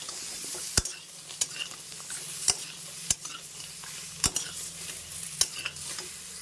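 Fried pointed gourd and lentil dumplings are stir-fried with potatoes and spices in a pan, a low sizzle under sharp, regular clacks of a spatula striking the pan about once a second, close and alone.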